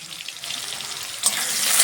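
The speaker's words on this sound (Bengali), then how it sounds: "প্রথমে আমি একটু আলুটাকে একটু ভেজে নিচ্ছি।" Potatoes frying in oil with salt give a steady close sizzle that grows louder and brighter toward the end, with no voices over it.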